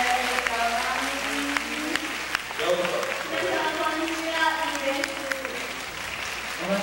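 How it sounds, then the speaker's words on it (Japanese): Audience at a hair show clapping to welcome a special guest onto the stage, a sustained burst of applause with a voice talking over it throughout. "拍手よろしく。"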